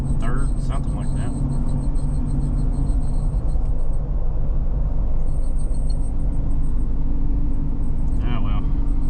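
A car on a test drive running stuck in one gear after a ring and pinion and limited slip upgrade, giving a steady droning engine and road rumble throughout, with a faint whine and a few brief clicks.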